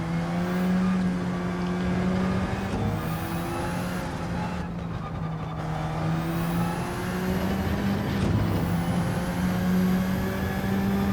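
A car races in Gran Turismo 7 with a steady engine drone close up, pitch sweeping up and down through gear changes and revs over eleven seconds, plus a brief dip in the middle.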